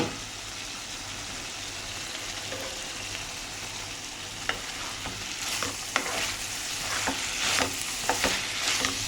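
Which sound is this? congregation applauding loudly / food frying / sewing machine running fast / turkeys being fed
food frying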